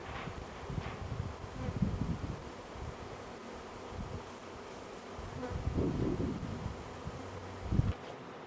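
Honey bees buzz continuously around the listener near a hive after a swarm, a dense steady hum with occasional louder passes as individual insects fly close, plus light wind noise.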